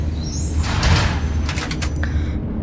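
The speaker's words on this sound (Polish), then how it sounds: "Zamykamy trzecie drzwi." The third door of a trolleybus in the Roblox video game slides shut at the Blachownia PKP stop, a loud close mechanical whoosh and rumble ending in a brief clunk, alone with no voices.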